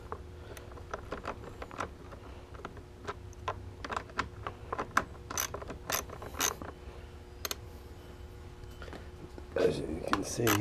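Loosening a part on a Honda lawnmower with a hand tool, a close series of quick metallic ratcheting clicks in irregular bursts over a low background hum.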